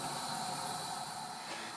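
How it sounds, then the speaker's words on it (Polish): A gas burner is lit under a frying pan on a kitchen stove, giving a steady, soft, broadband hiss that holds constant throughout, quiet and without voices. "Zapalam gaz pod patelnią"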